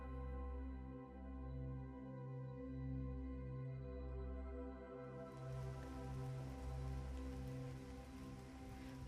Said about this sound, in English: It was the same dark, rainy morning.